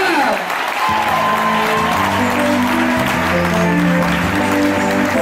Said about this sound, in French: Tiens-toi sur tes pieds et acclame.